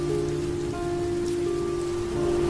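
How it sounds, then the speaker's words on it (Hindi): Heavy rain pours down steadily at night, a dense continuous hiss of drops with a low droning hum beneath and no voices. "ट्रक थोड़ा और आगे बढ़ा ही था कि बारिश तेज हो गई।"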